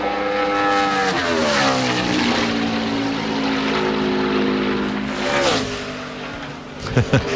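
A NASCAR Sprint Cup stock car roars past during qualifying at Darlington for the Southern 500, its engine note swelling, dopplering and fading as it laps at speed, loud and close with a brief knock at the end.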